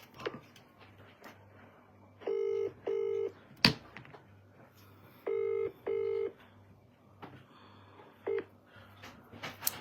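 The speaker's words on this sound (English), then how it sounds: "calling them on the phone" A telephone call being dialed, with clear electronic keypad tones in short paired bursts and a few single beeps, set against a low steady hum and faint background noise.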